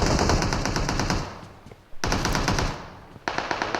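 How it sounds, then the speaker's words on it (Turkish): Rapid automatic gunfire in the battle royale shooter PUBG Mobile comes in three loud, close bursts of fast repeated shots with short pauses between them. "İki şarjör mermi attım ya."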